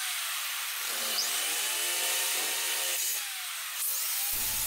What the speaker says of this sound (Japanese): 小さなドリルで下穴を開けます